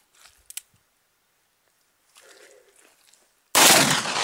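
A .44 Magnum Ruger Super Blackhawk revolver fires one loud, sharp shot near the end, after a few faint clicks and rustles in near silence.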